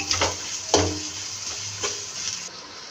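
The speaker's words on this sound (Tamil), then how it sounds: "நல்லா வெங்காயம் பொன்னிறமாக வரணும் நல்லா பொன்னிறமாக வர வரைக்கும் நல்லா வதக்கணும்" Onions sautéing in a pan while chicken biryani is made, sizzling steadily as a utensil scrapes and stirs through them a few times, heard close at moderate volume with no one speaking.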